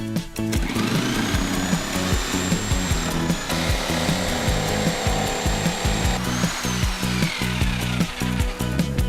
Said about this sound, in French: On place la scie sauteuse le long de la règle de maçon.